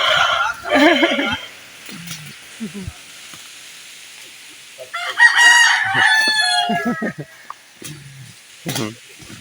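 A rooster crows loudly nearby, then crows again a few seconds later, with scattered clucking and people talking in between.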